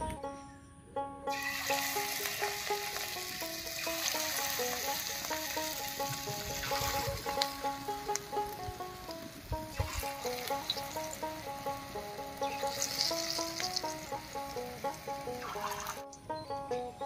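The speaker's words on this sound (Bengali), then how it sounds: "তেল গরম হয়ে গেছে, এবার ভাজা শুরু করি।" Karkol pakoras frying in hot white oil in a wok over a stove: a long, steady crackling sizzle that swells and bubbles at moments, with faint tonal sounds running softly beneath.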